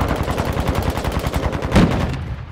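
Rapid automatic gunfire from Call of Duty Modern Warfare 2, a steady string of close, loud shots in even rhythm for about two seconds before tapering off, heard alone without talk.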